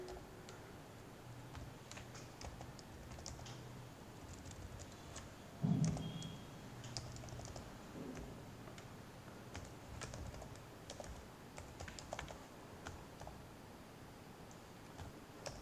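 Typing on a computer keyboard to enter a MySQL insert command, with soft, irregular key clicks in quick bursts that stay quiet and close, plus one louder knock partway through.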